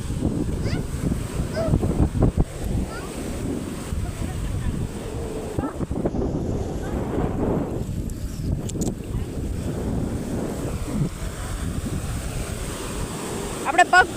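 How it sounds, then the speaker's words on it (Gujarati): Sea waves on a beach, a continuous rushing surf with wind buffeting the microphone, fairly loud throughout, with faint voices in the background. "દરિયા કિનારે કેવો અવાજ આવે છે"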